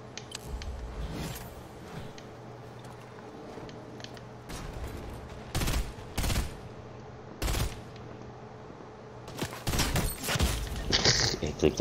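Gunfire from the video game Fortnite crackles in several loud, sharp bursts spread through the stretch, over steady game ambience with mechanical clatter in between.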